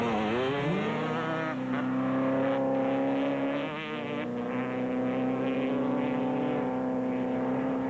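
A car races fast along a track, its engine a loud, sustained high whine that holds steady with a slight dip in pitch midway, close and continuous.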